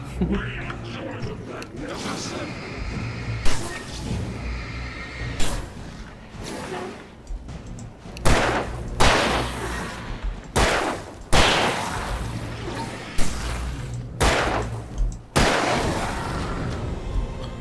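Gunfire in the video game Alan Wake, loud sharp shots in separated bursts, often in pairs, over creaking and mechanical game effects, with occasional voice.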